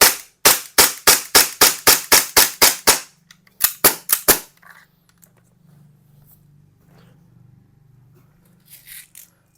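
A Double Bell 796 gas airsoft pistol, styled as a .45, fires in cold weather with low gas: a rapid string of about ten sharp, loud cracks, then a few more shots, then near-silence with a faint hum.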